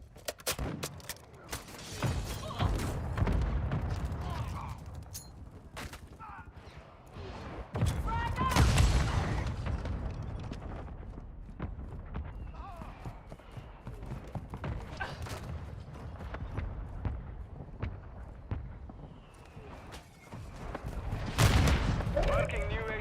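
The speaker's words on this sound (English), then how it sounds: "Mortar strike inbound" Repeated mortar-strike blasts and heavy gunfire in a shooter video game, deep booms surging at several points over a continuous busy battle mix.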